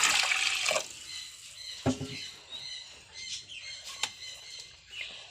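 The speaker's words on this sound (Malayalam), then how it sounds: "അതിൽ ആവശ്യത്തിനുള്ള വെള്ളം ഒഴിക്കണം." Water is poured into a pot of washed lentils in a short, splashy rush at the start, followed by quieter liquid sounds with faint bird chirps in the background.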